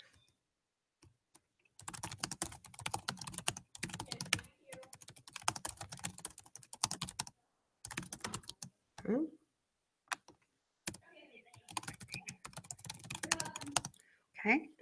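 Bursts of clicking on a computer keyboard while someone types entries, with several pauses between runs and occasional faint speech nearby.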